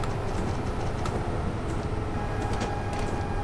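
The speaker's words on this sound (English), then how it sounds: "I don't know why the train is making electric sounds, because we are in diesel mode" An electric train motor in Train Simulator 2017, heard while the locomotive runs in diesel mode: a continuous rumbling hum with faint whining tones and occasional light clicks, steady throughout with no voices.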